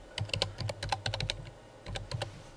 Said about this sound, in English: So you type in your name